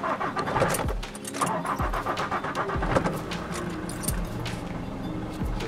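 Nissan Navara pickup with a YD25 diesel engine starting up roughly after SCV replacement, a loud uneven idle with repeated low thumps and rattles, close by with no talk.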